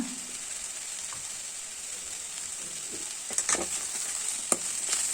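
Raw banana stir-fried and sautéed in a pan for a South Indian poriyal gives a steady close sizzle, with scraping stirs and a few sharp spatula knocks on the pan.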